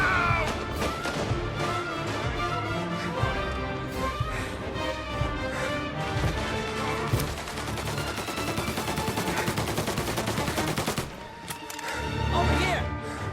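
Gunfire from Mafia: Definitive Edition fills the scene with dense, sustained bursts of shots and crashing impacts, loud and continuous over a music bed, with voices shouting.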